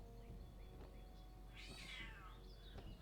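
A cat gives one clear, drawn-out meow in the middle, fairly faint, over a steady low hum with a few soft knocks.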